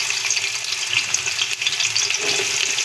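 Onions frying in hot ghee for chicken haleem, a steady bright sizzle close up that runs unbroken the whole time, with faint stirring beneath and no voices.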